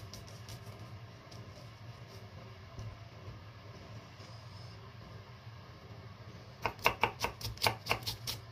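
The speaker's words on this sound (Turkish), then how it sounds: "Bıçağım çok keskin değil ya, o yüzden seri yapamıyorum. Çünkü soğanı parçalıyor." A dull kitchen knife chopping onion on a board, a quiet stretch giving way to a burst of about eight sharp, evenly paced chops near the end, with no talking.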